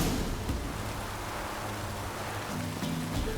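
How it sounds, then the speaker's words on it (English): Steady rain hiss falls across a village near a bog in The Witcher 3: Wild Hunt, a continuous even wash with faint low rumble beneath and no voices. "Looks like rain."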